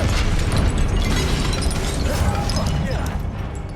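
Confringo explosion spell cast in Hogwarts Legacy, a dense, continuous roar of fiery bursts and crackling blasts that fills the whole moment, loud and close, with voices buried underneath.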